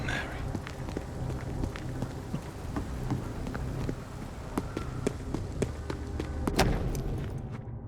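Rain patters steadily across surfaces in the Vampyr video game, with scattered sharp drips and knocks, a low rumble beneath and a louder thud near the end.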